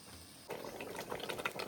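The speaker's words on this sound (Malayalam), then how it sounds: "തിളച്ച് തിളച്ച് തിളച്ച് കപ്പ ശരിക്കും ഇതിനകത്ത് കിടന്ന്" Tapioca (kappa) biriyani cooking in a pot, with a soft burst of bubbling and liquid sloshing starting partway through, quiet and close.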